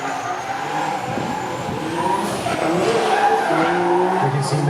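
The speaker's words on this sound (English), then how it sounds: "you can see Min Van Qua warming up that fresh set of tyres" A drift car warms up a fresh set of tyres at a drift series qualifying round in Miri, Sarawak. A loud, continuous tyre squeal and engine roar build slightly in intensity throughout.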